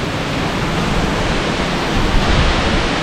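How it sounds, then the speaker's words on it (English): Heavy rain pouring down outdoors during a bike ride, a dense, loud, unbroken wash of noise that swells slightly near the end. "It's absolutely tipping down."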